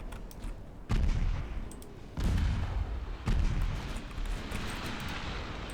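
Heavy naval guns boom in the Ultimate Admiral Dreadnoughts warship game, three loud, deep salvos spaced about a second apart over a low rumbling battle background, with no talking.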